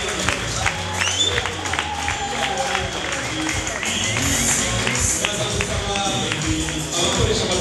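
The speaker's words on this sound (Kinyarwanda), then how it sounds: "kandi turabakiriza amashyi menshi" Wedding guests clapping throughout, a dense steady applause from a crowd at a Rwandan wedding, with voices and music mixed in underneath.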